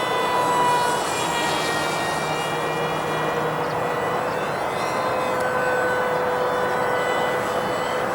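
A model airplane's small engine whines steadily in flight below full throttle, a loud continuous buzz with slight pitch drifts as the plane moves through the air.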